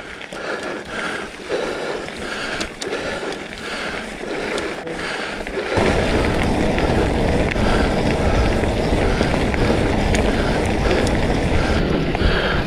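Northerly wind gusting past a cyclist climbing a moor road, a broad rushing roar against the microphone that jumps louder and steadier about halfway through and keeps up without pause.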